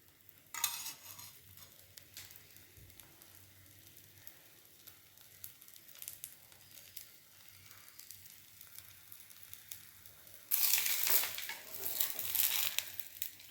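Adai, a lentil crepe, fries in generous oil on a pan with a quiet steady sizzle and crackle, swelling into brighter, louder spitting bursts near the start and again near the end.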